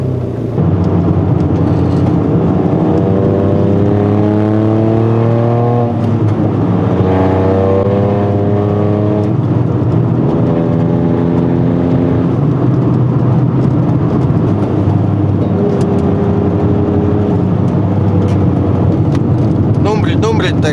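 A tuned Toyota GR Yaris revs loudly from inside the cabin as it drives, its engine pitch climbing and dropping repeatedly through gear changes, with a person talking over the sustained engine noise.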